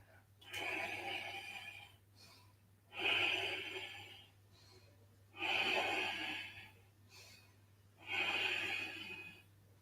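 Four slow, deep breaths during a live yoga class come close and evenly spaced, each a long breathy rush over a low steady hum.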